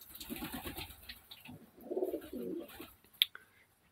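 Several pigeons coo in low, soft bursts around the middle, close by and fairly quiet amid faint background rustle, ending with a brief sharp higher chirp.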